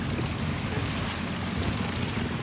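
Waves and wind wash steadily around a boat out at sea off Jumalig, Quezon, a constant broadband rush with a rumbling low end and no talk.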